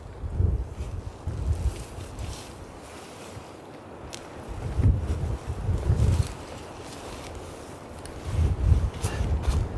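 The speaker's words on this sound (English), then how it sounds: "Man, that's a cold wind." Cold wind gusts buffet a tent during a heavy rainstorm while camping, with rushing bursts that swell and fade several times over a constant low rumble.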